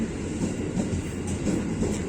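The KA Argo Anggrek passenger train, running from Gambir to Surabaya at up to 120 km per hour, gives a brief, steady, dense rumble and rattle of rolling wheels.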